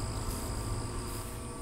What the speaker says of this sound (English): that extra sound you hear is the room fan running very slowly